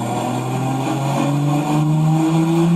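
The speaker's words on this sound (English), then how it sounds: "So here's me on the dyno, let's see. Looks like I made 802 on this pull." A high-horsepower car making an 802-horsepower dyno pull, engine revving loudly and continuously with its pitch climbing steadily throughout, heard up close with no talk.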